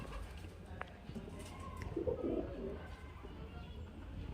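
Soft, low cooing of domestic pigeons, including a male, rising briefly in the middle, set against a steady background hum with occasional faint chirps.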